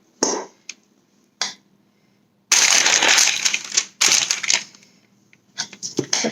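Repeated squishing and crunching as a no-bake granola bar mixture is mashed down in a bowl, irregular bursts of scraping and pressing with short pauses between, close and fairly loud.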